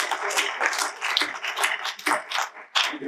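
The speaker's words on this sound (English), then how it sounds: "Big applause" An audience at a film panel at Los Angeles Comic Con claps in a brief burst of applause, uneven and moderately loud, with no one speaking over it.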